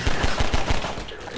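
Rapid bursts of automatic gunfire from Combine soldiers in Half-Life 2 Episode 1, a quick run of about five heavy shots, loud and close, then fading into a rattling, noisy tail.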